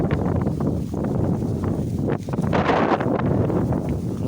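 Strong storm wind gusting across an open summer pasture where goats graze, a loud, continuous roar that swells and buffets the microphone, with heavier gusts surging partway through.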